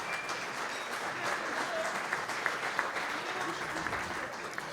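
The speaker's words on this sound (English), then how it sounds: "So a huge round of applause to all of you that are active, involved on these committees." A banquet crowd at a chamber of commerce annual meeting applauds volunteers, sustained steady clapping from many hands heard at a moderate distance and continuing throughout.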